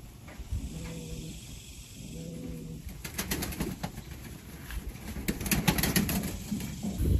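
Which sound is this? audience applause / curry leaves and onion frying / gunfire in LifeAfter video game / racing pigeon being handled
racing pigeon being handled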